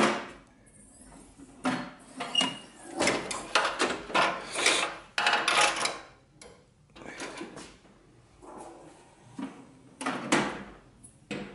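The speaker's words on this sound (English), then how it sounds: "The screwdriver hitting, I think." A screwdriver rattles and knocks around inside a garage drawer as it opens and closes, giving a run of close, loud wooden clunks and clatters in bursts, with brief quiet gaps between them.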